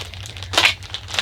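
A package holding a rosary on yellow cord is unwrapped with a short close burst of crinkling plastic and paper, brief rustles around it over a faint low hum.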